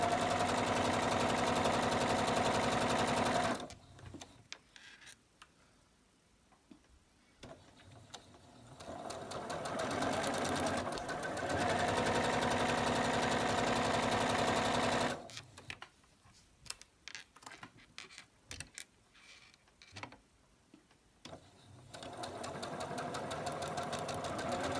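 Sewing machine chain piecing quilt half-square triangles with a 1/4 inch foot: a steady fast mechanical whirr in long runs, broken by quiet pauses with small clicks and handling noises, recorded close.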